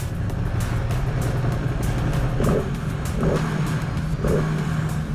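Ducati Panigale V2 motorcycle engine running in a parking garage, a steady low rumble with three short revs rising partway through, heard close and alone.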